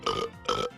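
Two quick, loud, voiced cartoon burps from a hiccup-versus-burp-off contest in Foster's Home for Imaginary Friends, each lasting about a quarter second, close and alone.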